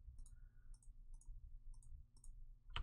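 Several crisp computer mouse clicks while selecting faces in Blender, spaced irregularly and close, with a slightly louder click at the end in a quiet room with no talk.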